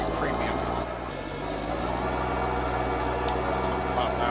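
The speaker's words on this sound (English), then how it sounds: "So this is the 7530 Premium." A John Deere 7530 Premium tractor from Farming Simulator 19 runs at a steady, loud droning engine note that stays constant throughout, with no breaks or pauses.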